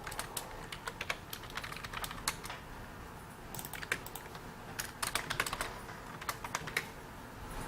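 Continuous typing on a computer keyboard, with rapid irregular clicks of keys, close and clear, pausing briefly between bursts, with no talking.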